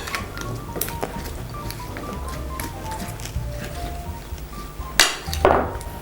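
Utensil scraping and clinking in a bowl as chicken and vegetables are stirred with a sour cream and mayonnaise mixture, with irregular taps and a couple of louder knocks near the end.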